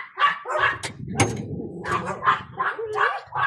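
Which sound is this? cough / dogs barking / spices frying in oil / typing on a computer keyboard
dogs barking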